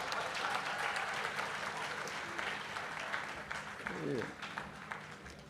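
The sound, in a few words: applause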